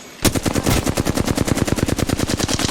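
Gunfire in Apex Legends, a loud, close burst of rapid automatic fire with roughly twenty evenly spaced shots continuing to the end.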